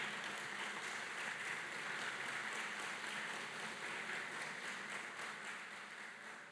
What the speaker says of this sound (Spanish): Porque el Señor Jesús, dale un aplauso al Señor.